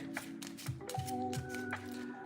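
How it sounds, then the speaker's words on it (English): A deck of playing cards is shuffled by hand in quick, soft riffling bursts, quiet and close with no talking. "What he'll do is he'll shuffle the deck"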